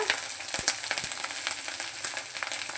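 Ground spice paste fries in oil for a tangra fish tel jal curry, a close, steady sizzle broken by a few sharp stirring clicks.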